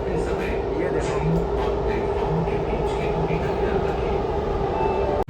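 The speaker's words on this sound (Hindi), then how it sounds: "भाई हमारी ट्रेन अंडर टनल घुस चुकी है भाई।" A Namo Bharat high-speed train runs through an underground tunnel near Anand Vihar, giving a constant loud, roaring rumble with faint rhythmic clatter from inside the carriage, steady throughout and cut off abruptly at the end.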